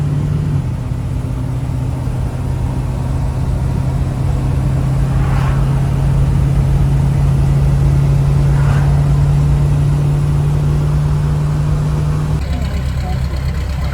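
A van engine runs steadily on the road, giving a continuous low drone with a faint rise in pitch and no clear revving bursts, loud and close throughout.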